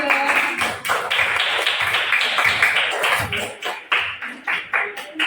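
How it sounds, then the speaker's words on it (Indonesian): Classroom students clap for a student group, lively and close, the clapping thinning into a few rhythmic, separate claps near the end. "Beri tepuk tangan untuk kelompok 2."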